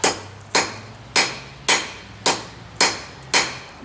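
A hammer rings on hot steel while the end of a pair of slot jaw tongs is tapered at the anvil, striking in seven loud, evenly spaced blows about half a second apart, each one ringing and then dying away.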